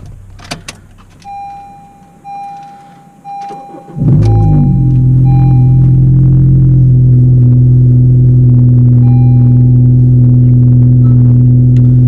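Muffler-deleted 9th gen Honda Civic Si starts up after a few cabin clicks and soft chimes, then settles into a loud, steady, droning exhaust idle that fills the rest of the recording.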